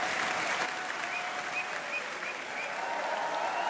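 Applause from a comedy-show audience for comedian Fabrice Éboué, sustained and uniform clapping from many hands, heard at a moderate-to-low level with a few faint high beeps over it.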